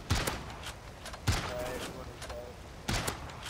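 Sniper fire in the Siege shooter game: three sharp, loud reports spaced a second or more apart, each trailing off quickly, with faint talk underneath.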